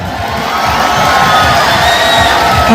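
A large crowd at an outdoor rural handicraft fair in Barishal cheers loudly, with shouts and whoops mixed into a dense, continuous roar that holds strong throughout.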